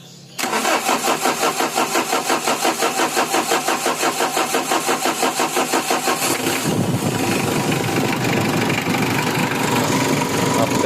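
A 2016 Mitsubishi L300 with a 4D56 diesel engine cranks and catches, its starter chugging rhythmically for several seconds before settling into a loud, steady diesel idle close by.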